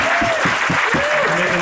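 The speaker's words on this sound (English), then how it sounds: "I think they're deserving of a round of applause" Wedding reception guests clap together in a short burst of steady, full applause that fills the room for its whole length, with voices mixed into the crowd sound.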